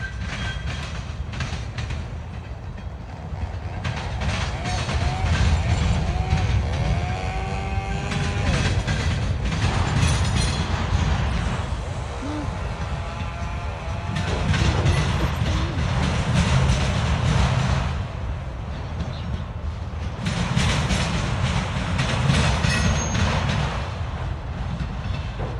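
A very long, slow CSX freight train passes in Romulus, Michigan, with continuous rumbling, rhythmic clickety-clack of wheels over rail joints and intermittent metallic wheel squeals, loud and close throughout.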